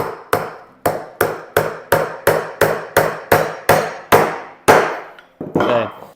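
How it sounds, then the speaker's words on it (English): A spring-loaded nail punch driving a 40 mm nail into a wooden workpiece: about a dozen sharp, loud snapping strikes in a quick, fairly even rhythm, each decaying fast, ending with a softer rattle. "it spring loads down, and it actually can punch nails in"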